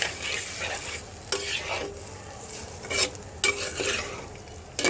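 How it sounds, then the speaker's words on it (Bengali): Mixed vegetables and spices for a spinach dish being stirred and fried in a pan. A steady sizzle runs under repeated scraping strokes of a spoon against the pan, with a few sharp clinks and no talking. "মশলাটাকে আর সবজিটাকে আরও বেশ কিছুক্ষণ কষানোর জন্য তো চলো সব কিছু একসাথে মিক্স করে দিলাম"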